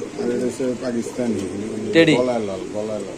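Pakistani giribaz pigeons coo in a series of low, throaty bursts close by, while someone talks over them throughout.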